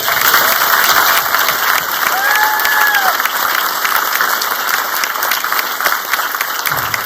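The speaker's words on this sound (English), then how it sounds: "one more round of applause for the green shirts" A crowd at an Honor Flight homecoming applauds volunteers in green shirts with loud, dense, continuous clapping that holds steady throughout, with a brief whistle-like tone rising and falling partway through.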